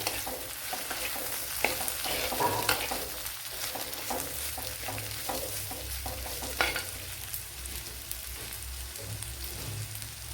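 A large sliced onion and two sliced green chilies being sautéed in a pan: a constant close sizzle broken by frequent scraping, clattering stirs.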